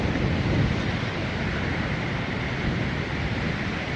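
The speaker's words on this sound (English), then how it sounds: "See, those waves aren't terribly small." Ocean waves roll in at Salt Creek beach in Southern California, a steady broadband wash of surf blended with wind buffeting the microphone, continuous and fairly loud with no voices.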